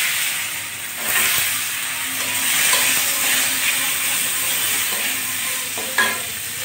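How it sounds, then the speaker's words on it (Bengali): Washed green mangoes sizzle and hiss in mustard oil with two dried chillies, a close, steady frying crackle broken by a few sharp stirring knocks against the pan. "কিছুটা কালো সর্ষে তেলের ভিতর দিয়ে দিচ্ছি, আর দুটো শুকনো লঙ্কা। ধুয়ে রাখা আমগুলো দিয়ে দিচ্ছি।"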